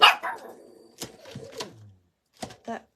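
A dog barks several times in short bursts at close range, with sharp separate barks and brief pauses between them, in a home crafting setting during card making with dies.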